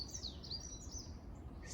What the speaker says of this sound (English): let the birds say goodbye on my behalf